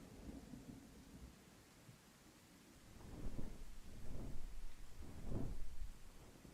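Thunderstorm in the video game The Sapling, with steady rain hiss under low, rolling rumbles of thunder that swell and fade several times, moderately loud and with no voices.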